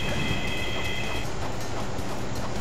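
Train rolling on rails in the Rail Canyon stage of the video game Sonic Heroes: a loud, continuous rumbling roar with a high metallic squeal in the first half and faint clicking from the rails.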